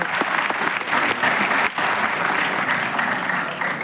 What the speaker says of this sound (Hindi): बल्कि ताली बजाने में भी बहुत आगे हैं